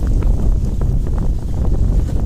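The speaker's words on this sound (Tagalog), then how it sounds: "Hangin." Steady wind buffeting the microphone outdoors by the water at a cream dory fishing spot, a loud continuous low rumble with no voices.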